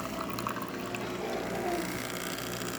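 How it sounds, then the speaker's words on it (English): A DeLonghi espresso machine pumps water through its system, giving a steady, continuous watery hum with a low mechanical drone underneath, close and unbroken throughout. "the machine is pushing water throughout the whole system"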